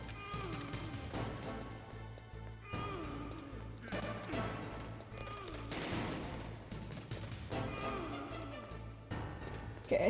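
Repeated bursts of gunfire ring out in Metal Gear Solid, close and loud, arriving in irregular clusters over a layer of background game sound.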